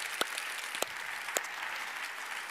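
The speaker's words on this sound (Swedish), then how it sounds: "Jag tycker vi ska ge Niklas en applåd" A church service audience gives a speaker a short round of applause, a soft, steady patter of many hands with a few sharper claps, heard at a distance.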